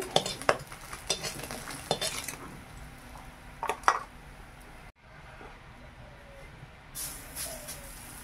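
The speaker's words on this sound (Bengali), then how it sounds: "এবার আমি বড়াটা ভেজে নেব।" Small sour fritters fry in a pan, a low sizzle under a string of sharp utensil clinks and scrapes against the pan, close by, with a short pause partway.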